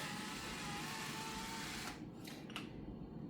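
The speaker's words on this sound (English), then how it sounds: "If you can fresh crack yours with a grinder, you're probably way better off doing that." A pepper grinder cracks fresh black pepper over a dish for pork tenderloin taco bowls, a steady close grinding rasp running for about two seconds before it stops, leaving a few brief scrapes.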